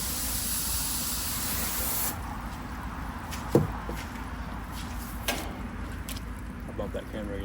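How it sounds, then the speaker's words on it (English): A steady hiss of water sprays dirt off an outdoor air conditioner unit, running continuously and close, with occasional knocks and clatters as the spray shifts partway through. "finish spraying the dirt off of this stuff and screw it back together."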